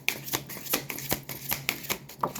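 Tarot cards are shuffled and drawn one at a time in a quiet room, making about six crisp, close flicks and slaps in an uneven rhythm, with no talking.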